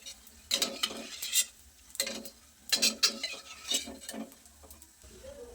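Edible gum stirred and fried in ghee with a metal spoon scraping a pan, several bursts of clinking strokes over a soft sizzle, close and fairly loud.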